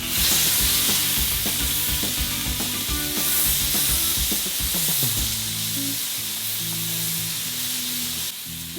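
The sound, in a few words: squid and eggplant sizzling on a grill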